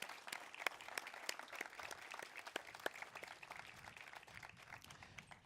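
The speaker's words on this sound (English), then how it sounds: "Let's give them another round of applause." Applause from an audience at an outdoor Memorial Day ceremony, a steady patter of many hands with a few sharp, distinct claps standing out. It stays fairly light and even throughout, with no voices over it.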